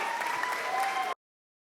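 Concert audience applauding a staff jazz band, a dense steady burst of clapping that stops abruptly after about a second.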